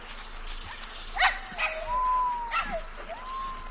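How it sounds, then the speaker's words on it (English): Puppies howling in the Planet Zoo video game, several thin rising and wavering howls with short yips, fairly close over a soft ambient game background. "Even the way they howl, that's awesome."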